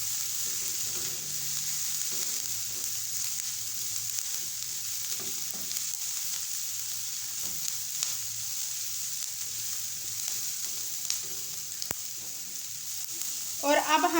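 Dry coriander, cumin and carom seeds are mixed in a pan, giving a steady close sizzling hiss with soft scraping stirs throughout.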